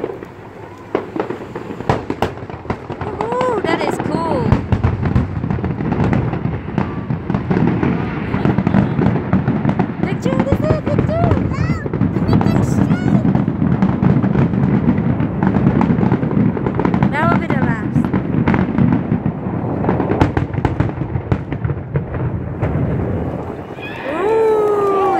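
Friday-night fireworks display at Waikiki, with continuous booming bursts and crackling pops rolling on for the whole stretch, loud and echoing, with crowd voices and occasional whistles mixed in.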